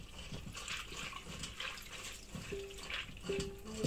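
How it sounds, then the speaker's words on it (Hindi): Water poured over cashew nuts sitting in a strainer for washing, a soft, steady splashing and trickling close by, quiet and without speech. "अब इसके ऊपर पानी डालकर इसे वॉश कर लूँगी ताकि जो धूल हो या कुछ पड़ा हो वो क्लीन हो जाए।"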